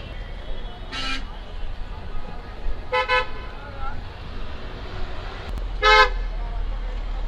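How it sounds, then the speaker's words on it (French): Car horns honk in busy Delhi street traffic, three separate bright toots spaced about two seconds apart over a steady roar of road noise, with a voice speaking faintly in the background. "Ah, je me fais klaxonner de partout"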